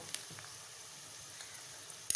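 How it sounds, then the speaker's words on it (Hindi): Chicken liver frying with ginger paste and onions in a pan, a soft continuous sizzle with a few faint pops and a brief stirring clatter near the end. "इसे अच्छी तरह से भून लेंगे"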